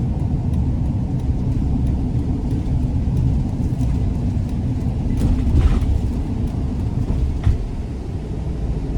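A 2014 Sprinter van with a 2.1 twin-turbo four-cylinder engine pulls steadily on an interstate, a constant low road-and-engine rumble from inside the cabin with no clear pauses.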